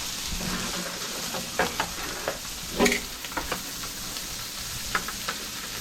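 A blackened redfish fillet sizzles skin side down in a pan on a grill, a steady close frying hiss broken by small pops and crackles.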